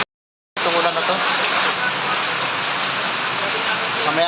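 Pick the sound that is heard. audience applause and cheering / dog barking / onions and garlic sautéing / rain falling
rain falling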